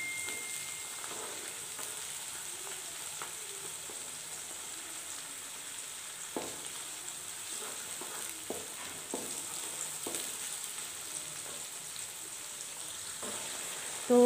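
Onions and moong frying together in a pan for an achari mixed vegetable dish: a soft, even sizzle throughout, with occasional faint spoon scrapes and taps, close by but quiet, with no talking.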